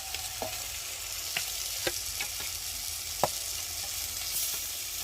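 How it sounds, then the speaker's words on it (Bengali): Lotte fish coated in salt and turmeric sauté with spices in a pan, a faint steady sizzle with scattered spoon scrapes and taps, close and quiet with no voices. "নুন হলুদ মেখে রাখা মাছগুলো দিয়ে ভালো করে কষিয়ে নেবে একটু"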